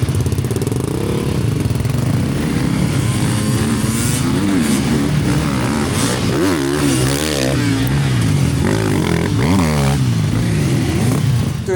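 Honda CRF dual sport motorcycle held at open throttle through a muddy enduro rut, its engine revving loud and continuous with rising and falling pitch sweeps as it labors, close and steady throughout.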